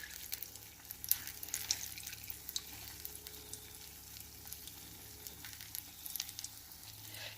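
Paneer pakora deep frying in oil over a low to medium flame, a faint, steady sizzle with soft crackles and pops scattered throughout, and no voices.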